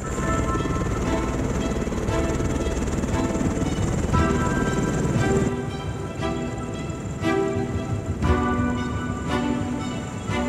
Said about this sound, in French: on a fait ne serait-ce à peine 1 minute dans l'hélicoptère